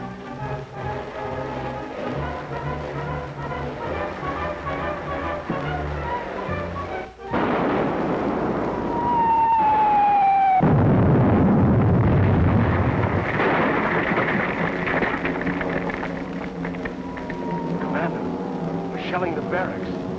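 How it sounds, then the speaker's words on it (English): Artillery shelling of barracks in a 1942 WWII drama, heavy booming blasts and a long rolling rumble mixed with whistling tones and dramatic soundtrack, loud and dense, with voices briefly heard. "Shelling the barracks."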